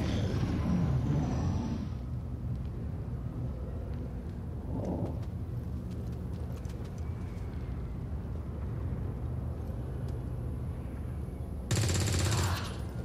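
Gunfire in XCOM 2: a burst of rapid shots opens the clip, a short report comes mid-way and another loud burst near the end, with a quiet ambient hum between.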